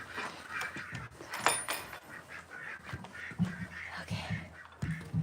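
Ducks quack in a farm duck pen, with irregular overlapping calls and squawks at close range, some noisy bursts and rustling in between.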